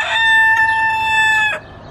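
A large rooster crows once, loud and close, in a single drawn-out call lasting about a second and a half, with no talk over it.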